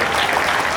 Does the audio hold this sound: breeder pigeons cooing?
no